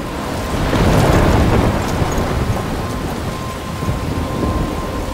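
A thunderstorm in the game Life Is Strange 2 roars with heavy, steady rain and a deep rolling rumble of thunder that swells early and then eases. The sound is loud and close, and no one speaks.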